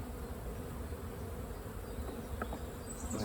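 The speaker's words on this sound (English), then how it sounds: "I'll watch the behaviour of the bees for the next hour or so while I'm here." Honey bees buzz around a beehive in a steady, dense drone that stays close and constant throughout, with faint outdoor sounds underneath.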